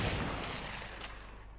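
Hunting rifle gunfire in Fortnite, a couple of faint distant cracks over a dense, noisy game background.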